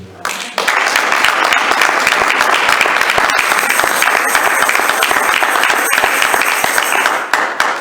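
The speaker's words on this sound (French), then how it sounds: "J'aimerais que tu acclames ce Dieu" A church congregation bursting into loud, sustained applause during a sermon, dense clapping from many hands filling the room for several seconds with faint voices underneath.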